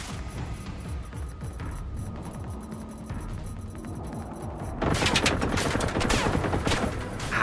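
A robot enemy in the Generation Zero video game firing incendiary rounds: quieter distant gunfire and hum at first, then a sudden loud, dense burst of rapid shots close by.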